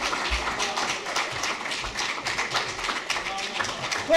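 Round of applause from an audience welcoming a student minister to the rostrum at a religious gathering, steady clapping across the whole stretch with scattered louder taps.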